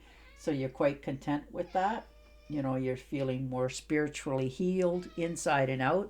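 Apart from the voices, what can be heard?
cat meowing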